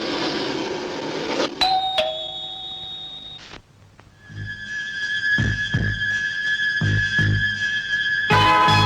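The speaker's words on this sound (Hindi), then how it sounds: "डोरबेल बजा के घुसती हैं।" A house doorbell rings with bright electronic ding-dong chimes, sounding several times in sequence, loud and close over background music and sound effects.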